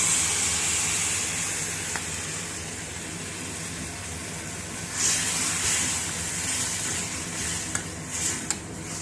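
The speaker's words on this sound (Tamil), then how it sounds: "நீங்கள் வந்து இந்த புளி கரைச்சி வச்சதை எடுத்து ஊற்றிக்கோங்க" Tamarind water hitting hot oil in a pan for coriander leaf pickle, giving a loud, steady sizzle with a sharp burst of hiss around the middle and a few light clinks and stirring sounds, with no talk.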